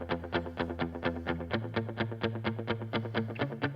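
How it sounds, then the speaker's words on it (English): Electric guitar plays a steady run of plucked notes through a pedal-board delay, each note echoing into the next so the repeats roll and fill the gaps in an even, pulsing rhythm. "used a delay to create what I'm calling the rolling guitar delay"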